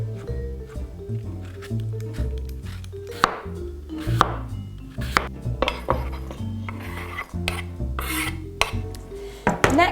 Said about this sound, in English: I'm chopping all of those things up until they're about the same size as the currants